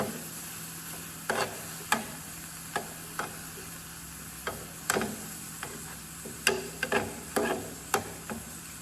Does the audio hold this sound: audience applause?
no